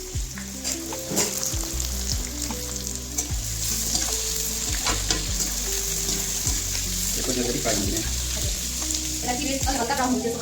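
Sliced onions and bay leaf fry in hot oil for chicken biryani, giving a steady close sizzle with stirring clatter throughout, layered over background music tones.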